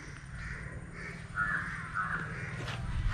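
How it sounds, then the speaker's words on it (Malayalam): Crows caw repeatedly as they circle overhead, several harsh calls in a loose sequence, moderately loud against quiet outdoor background. "അവിടെ കാക്കകൾ ഇങ്ങനെ വട്ടിട്ട് പറക്കുന്നുണ്ട്"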